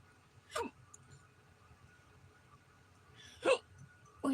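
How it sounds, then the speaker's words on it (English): Two sharp, intense hiccups about three seconds apart, each a sudden loud gulp over quiet room noise, with a third starting at the very end. "it was a pretty intense hiccup."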